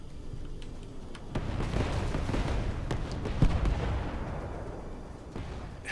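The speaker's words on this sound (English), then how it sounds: "Those really do sound like good reports on explosions or even from guns firing." Destroyer guns and explosions in a naval video game, a rumbling wash of gunfire and booms with scattered sharp cracks, building to a heavier blast midway before fading slightly.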